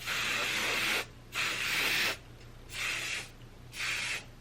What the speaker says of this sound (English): I'm going to finish off with Matrix High Amplify Flexible Hairspray again.